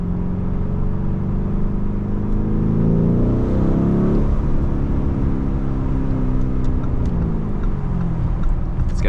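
A 2021 Lamborghini Urus drives on the road with a loud, continuous engine drone whose pitch climbs as it accelerates, then eases and settles into a steady cruise, heard from inside the cabin with no talking.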